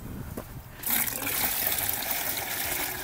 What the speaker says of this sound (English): so just gonna get some water in here